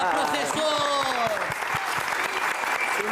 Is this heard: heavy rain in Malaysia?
no